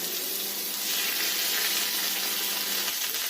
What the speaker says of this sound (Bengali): সোয়াবিনগুলোকে আমি খুব ভালো করে মশলার সাথে কষিয়ে নেব